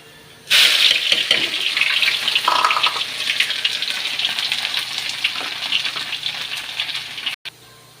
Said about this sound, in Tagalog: Ngayon magigisa na po tayo.